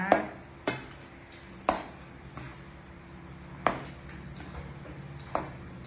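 Food being stirred together in a pot, with sharp utensil knocks against the pan every second or so over a low sizzling background, close and moderately loud.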